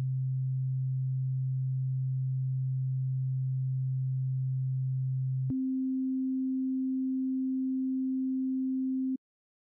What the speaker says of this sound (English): I have here two sine waves playing in two different octaves